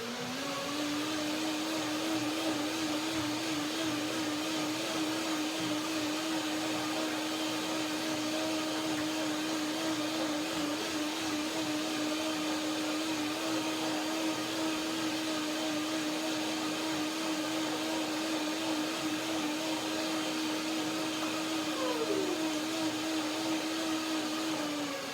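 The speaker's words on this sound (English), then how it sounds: "Go back to my macadamia cream, 1 more blending." A kitchen blender whirs through macadamia cream in one long, loud, steady run, its motor pitch dipping slightly near the end, with no one talking.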